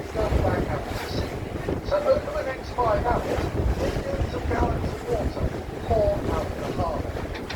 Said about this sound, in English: Now the tide has just turned. It's just starting to go back out to sea.